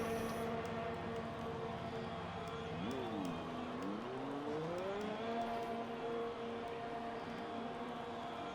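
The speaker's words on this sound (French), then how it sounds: "on entend les premiers moteurs rugir" Race car engines roar in the F1 2020 video game at the Spanish Grand Prix, a steady engine drone with rising and falling pitch sweeps as cars pull away, continuous and moderately loud throughout.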